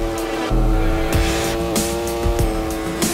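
Racing motorcycle engine in the video game Ride 4, revving loudly with rising and falling pitch through quick shifts, accompanied by steady musical tones in the background.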